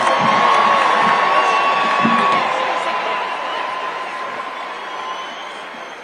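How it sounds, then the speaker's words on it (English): A crowd cheers and whoops loudly at first, then the roar gradually fades to a lower, sustained din over several seconds. "why did the crowd's cheers get louder when he fell?"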